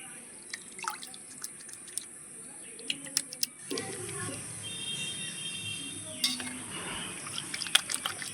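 Water drips and trickles as hands are wetted to work up a lather with a bar of homemade neem soap, a close, fairly quiet run of small splashes and drops that grows fuller partway through, with no talking.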